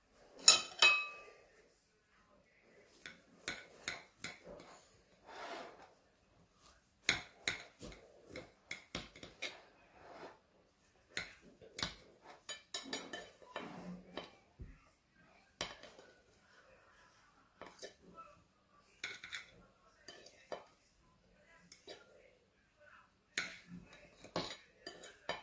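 A knife cutting and tapping through a savory cake topped with cheese, still warm, giving scattered clinks and scrapes of metal on a plate over about twenty-five quiet seconds.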